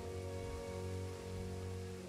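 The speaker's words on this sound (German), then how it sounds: "Ich weiß gar nicht, warum es hier die ganze Zeit Dauer regnet." Steady rain in the Jurassic World Evolution video game, a continuous even patter under a low hum with no voices.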